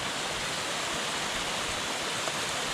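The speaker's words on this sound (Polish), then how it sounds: "A oto wodospad w całej okazałości." The Three Sisters waterfall in College Valley near Wooler roars as a steady, dense rush of falling water, loud and continuous, with no voices.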